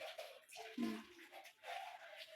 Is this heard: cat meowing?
no